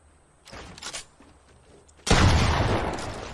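A gunshot in Fortnite during a building fight: a sharp, loud crack that bursts in suddenly and trails into a rumbling tail, after a couple of softer clicks and thuds.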